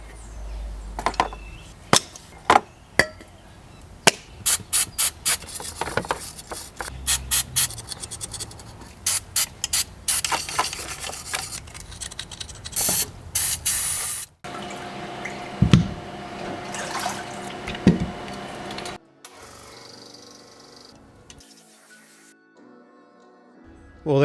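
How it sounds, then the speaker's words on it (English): Carburettor parts are worked over with a spray of carby cleaner, a brush and a pick, giving close, irregular scratching, scraping and clicking sounds, with quieter dripping, fizzing moments toward the end. "I'm going to hit this with the carby cleaner, a brush and a pick"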